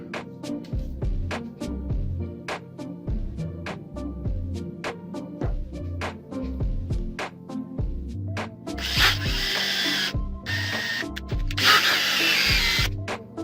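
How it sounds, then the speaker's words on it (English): A hand drill grinds in quick repeated strokes, drilling a stone-setting hole in a metal ring, a rhythmic scraping churn that gets harsher toward the end; no speech. "Now we have to drill the hole for the stone."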